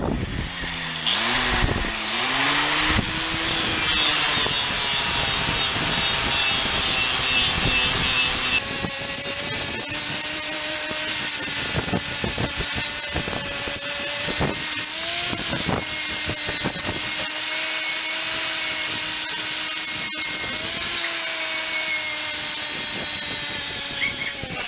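A power tool's stripping wheel grinds paint and rust off motorcycle parts, its motor whining continuously up close with pitch dipping and rising as it bites into the metal, loud and unbroken throughout.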